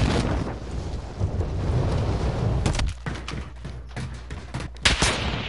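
Gunfire in a video game with a sniper firing: a dense rumbling barrage gives way to a series of sharp, separate cracks and bangs, a louder shot near the end, and no talk over it.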